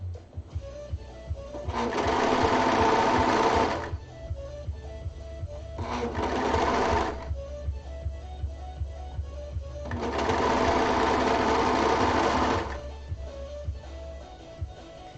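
A sewing machine top stitching fabric runs in three loud bursts of rapid, steady needle chatter, the second one shorter, separated by quieter pauses.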